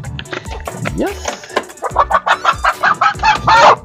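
One of four backyard hens clucks loudly and close by in a rapid series of short, pulsing calls, with one rising squawk near the start and louder clucks toward the end.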